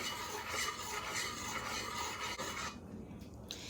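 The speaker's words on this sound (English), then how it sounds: "Going to give it a quick stir." Quick one-minute oatmeal being stirred in a pot of boiling milk and water with a pinch of salt, a steady close rasping and rubbing for a few seconds that quiets toward the end.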